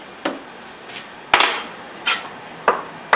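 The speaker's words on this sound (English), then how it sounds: "the other half of the avocado we're going to just chop up into small, cube it very, very small" A knife chopping and cubing avocado on a cutting board for a raw vegan chili, heard as about five crisp, separate knocks spaced unevenly, close and fairly loud against a quiet background.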